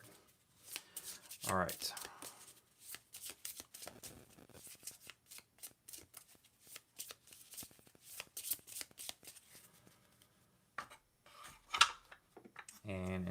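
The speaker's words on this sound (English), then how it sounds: "Reshuffle the event deck with the discard pile, minus that card." A deck of board game cards for Nemesis is shuffled with riffles, taps and rustling handling over about thirteen seconds, close and fairly quiet, while a voice talks intermittently over it.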